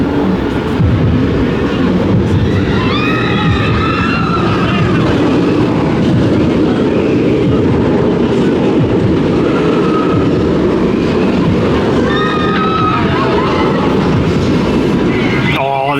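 The Nemesis Reborn roller coaster train at Alton Towers passes nearby with a loud continuous rumble and rattle of wheels on track, riders' screams rising above it, and a voice speaking over the noise.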